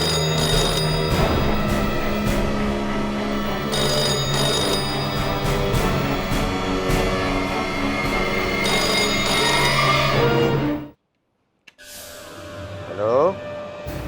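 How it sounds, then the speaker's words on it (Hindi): A telephone rings over and over in a household, a repeated electronic trill that goes unanswered for about ten seconds before cutting off into near silence, with a brief faint sound afterward. "फोन तो कोई उठा ही नहीं रहा है।"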